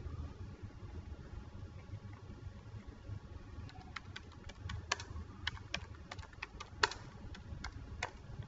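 Someone types an SQL query on a computer keyboard in SQL Server Management Studio. The crisp, close key clicks start partway through in an uneven run and sit over a low, steady room hum.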